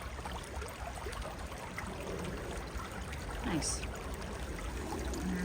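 Creek water flowing around rocks at Yellow Creek, a continuous close trickling and gurgling wash. A voice briefly speaks a word near the middle.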